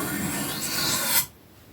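A sewing scissors blade rasps along a sanding block in one steady, close sliding stroke lasting just over a second, ending abruptly into near silence.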